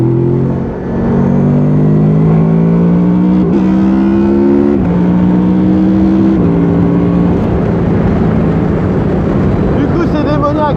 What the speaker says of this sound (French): J'accélère. Je reste accéléré et je monte.